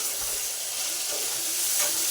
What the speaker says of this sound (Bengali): আর শুকনো লঙ্কা ফোড়ন দিয়েছি আলু ভাজায়, দিয়ে ভাজা করছি।